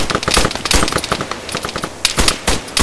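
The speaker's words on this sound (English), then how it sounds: "No, that's definitely a guy shooting a blitz" Automatic gunfire in the military video game Arma rattles in rapid, loud bursts of sharp shots, with brief pauses between volleys.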